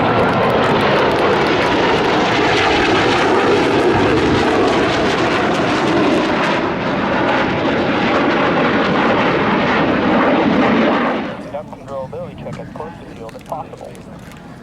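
A loud, steady roar of Blue Angels jet aircraft flying in formation overhead at Pensacola Naval Air Station for about eleven seconds, then cutting off abruptly into quieter background rumble.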